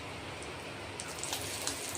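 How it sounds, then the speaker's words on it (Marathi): Stuffed ridge gourds with masala, curry leaves and cumin fry on a tawa, giving off a soft, steady crackling sizzle with faint scattered pops. "गिलके तवा फ्राय करतोय आपण तव्यावर"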